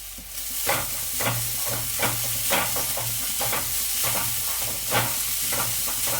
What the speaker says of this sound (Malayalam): എന്നിട്ട് ഇളക്കി എടുക്കുക.